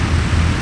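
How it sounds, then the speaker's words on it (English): A Cessna landing at Oshkosh during crosswind arrivals at EAA AirVenture gives off a loud, steady engine and propeller drone in a short, continuous burst. "Cessna landed on the right side, 36 right, clear to land"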